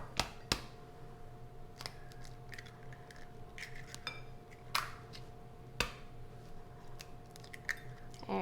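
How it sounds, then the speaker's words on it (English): Two eggs cracked for a meatloaf mixture in a home kitchen: a few crisp knocks and shell cracks, sharp and close but quiet, then small clicks and taps of utensils against a bowl over a low steady hum. "And I need to crack my eggs."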